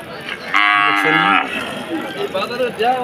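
A cow bellows a loud, drawn-out moo up close at a busy cattle market near a border area, followed by lower calls and murmuring crowd voices in the background.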